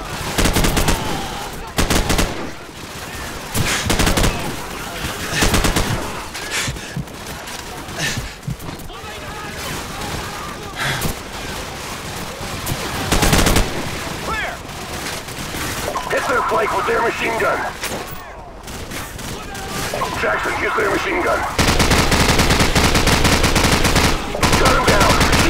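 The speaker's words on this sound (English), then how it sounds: "Shoot Zeke." Call of Duty: Modern Warfare 2 gunfire: dense, sustained bursts of machine-gun and rifle fire rattle throughout a loud combat scene, with occasional brief pauses and voices calling out amid the shooting.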